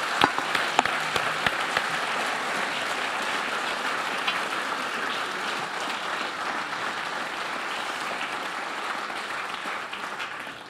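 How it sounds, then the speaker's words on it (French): Sustained audience applause at the opening ceremony of the 10th BPH 2021, a dense, steady wash of many hands clapping for about ten seconds, fading slightly toward the end. "Je propose qu'on applaudisse nos 4 interlocutrices et interlocuteurs"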